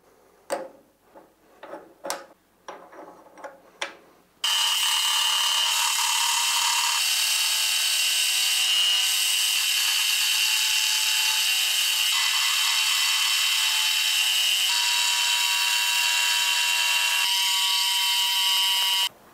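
A milling machine faces a rusty chunk of rebar: a few sharp clanks and taps come first, then the cut starts with a loud, steady, high-pitched whine and screech that continues unbroken until it stops abruptly at the end.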